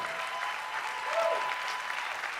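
A church congregation claps and applauds steadily at a French-language worship service, a dense continuous patter of many hands heard moderately far off, with a faint voice briefly rising in the middle.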